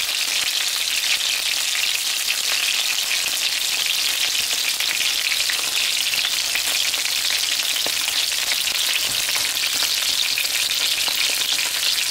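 Chicken wings fry in a pan as they turn crispy, a loud, dense, continuous sizzle and crackle heard up close and steady throughout with no voices.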